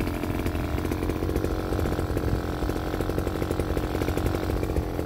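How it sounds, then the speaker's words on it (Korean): A brush cutter trims weeds on field banks, its small two-stroke engine buzzing loudly and continuously at high revs throughout. "예초 작업을 한번 해보겠습니다"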